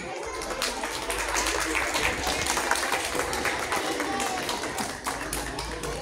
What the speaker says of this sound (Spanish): Fuertes aplausos para la fase 5